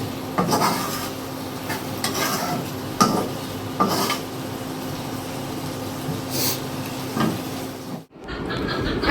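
Fish fried in mustard oil in a home kitchen pan, a steady sizzle broken by repeated scraping and stirring clatters against the pan, ending in a brief cut to a different quieter scene.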